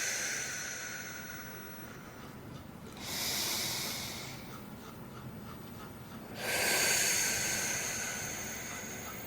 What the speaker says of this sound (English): Take another few deep inhales and exhales.